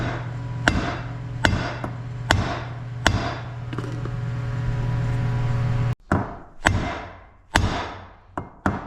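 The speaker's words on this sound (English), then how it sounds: "so I'll just keep hitting it with the hammer." Sharp metallic hammer blows ring out one after another, about eight strikes spaced roughly a second apart, with a steady hum underneath and a brief break midway, during clutch maintenance on a Yamaha Sidewinder snowmobile.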